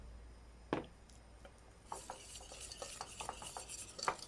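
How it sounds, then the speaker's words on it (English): Tomato paste is stirred into a tomato soup base in a pot, giving scattered soft scrapes and clinks of a utensil against the pan, faint and close, with no talking. "I am now going to add my tomato paste and just give that a stir"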